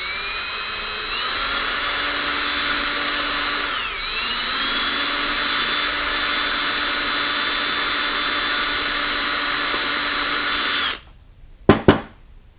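A drill bores into the jet port of a Yard Machines snowblower carburetor. The motor whines steadily and loudly up close, dips briefly around the four-second mark, then stops abruptly and is followed by a couple of sharp clicks.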